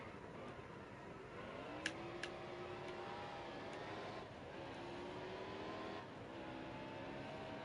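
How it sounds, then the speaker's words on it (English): Race car tires spinning and squealing on corner exit in NASCAR Heat Evolution, over a steady loud engine drone with shifting pitch sweeps and a couple of brief sharp ticks, no voices. "That was a big amount of tire spin exiting that corner."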